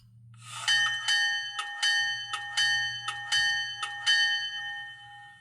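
A Scale Trains Rio Grande SD40T-2 Tunnel Motor model locomotive rings its bell. The bright metallic strikes come about eight times in a steady rhythm, each leaving a lingering ring over a faint low hum.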